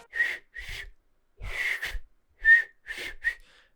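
A person tries to whistle, producing a string of breathy, airy whistle attempts in short bursts with pauses between them, close and moderately loud.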